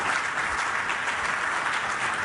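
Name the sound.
audience applause for panelists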